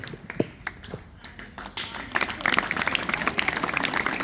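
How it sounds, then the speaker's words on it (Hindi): At a school house activities results event, a few scattered claps build into full, dense applause from the assembled students and audience, growing louder and steadier toward the end. "जोरदार तालियां"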